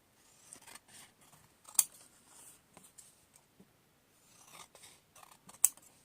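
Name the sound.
scissors cutting paper pieces for ephemera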